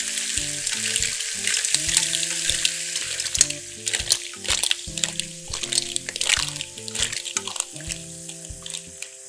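Pre-washed, boiled clams are mixed into bubbling XO sauce in a pan, frying loudly with a wet sizzle. Shells and a utensil clatter and knock in an uneven rhythm close by.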